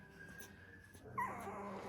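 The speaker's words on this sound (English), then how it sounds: "I hear Josie's puppies in there" Faint, high whimpers and small yips from Doodle puppies, soft and somewhat distant, with a short squeak standing out near the end.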